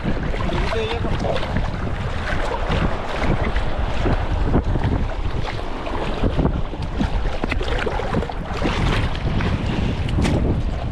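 A paddled boat moves through choppy water with steady splashing and sloshing, wind buffeting the microphone throughout, continuous and fairly loud.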